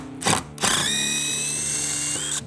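An old rusty carbon-steel screw being backed out of a composite deck with a power drill: two short bursts, then a steady whining motor with rising pitch, close and fairly loud, no talking.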